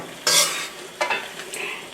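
Shrimp fry in a pan for a savory Chinese dish, with two or three bursts of sizzling and stirring over a quiet background hiss. The sound is close and moderately loud, with no voices.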